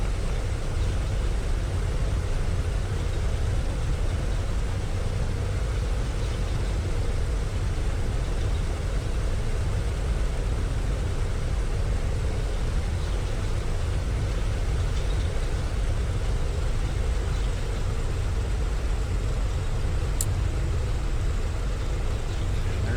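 A PMDG DC-6B four-engine propeller airliner in Microsoft Flight Simulator 2020 idles while taxiing to parking at the airfield, giving a steady, unbroken low engine drone throughout.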